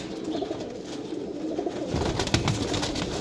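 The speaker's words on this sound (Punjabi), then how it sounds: "ਇਹ ਕਬੂਤਰ ਦੇਖੋ" Pigeons of a bred fancy variety, kept in a loft for sale, cooing softly in low repeated murmurs, with faint chirps and light rustling around them.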